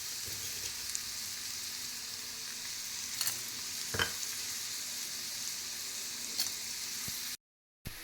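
Finely chopped onions with garlic fry in a pan for a besan curry, giving a faint, steady sizzle with a few soft stirring clicks.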